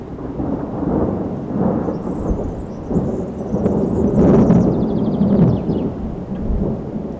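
Thunder rumbling through a thunderstorm, a continuous deep roll that swells and peaks midway, with faint rain and scattered high chirps over it.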